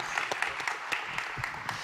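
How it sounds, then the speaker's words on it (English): A conference audience in Austin claps as a speaker walks on stage, brief steady applause with distinct sharp claps standing out, fairly close and alone without talk. "Give him a round of applause."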